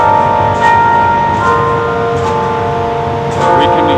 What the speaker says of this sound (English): We can hear strikers or the bells that John Stanford keeps.